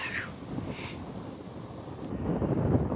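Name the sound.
cold wind blowing into the microphone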